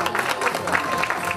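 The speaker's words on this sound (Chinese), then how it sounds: "再给他们一个热烈的掌声鼓励好不好" A crowd gives warm applause at a Christmas charity auction event. The clapping is dense and continuous at a close, even level with crowd murmur mixed in and faint voices underneath.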